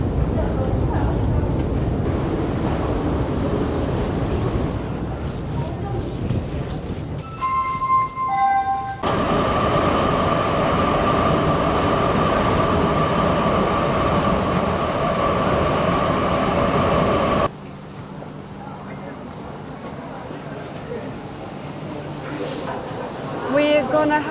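Metro train ride in Tbilisi, Georgia: a loud continuous rumble of wheels and car noise, with a rising tonal whine midway and a drop to quieter rolling later, while people talk over it.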